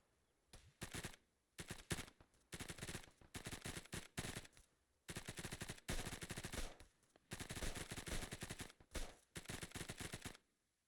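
Repeated bursts of automatic gunfire in the video game Arma 3, loud rapid volleys separated by short pauses, some longer and sustained.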